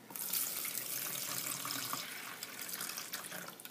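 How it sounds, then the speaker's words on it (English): Water poured from a container into a bowl for a preschool gel-ball growing experiment, a steady close splashing pour that runs the whole time with no talk. "Now you're going to take the water, and you're going to dump the water in there."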